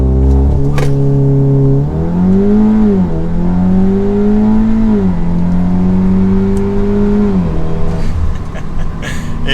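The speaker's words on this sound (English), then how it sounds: "All right, let's do it at launch control." An Audi S3 launches hard from a full stop using launch control, its engine loud and close, revving in stepped climbs with several quick shifts before easing off near the end.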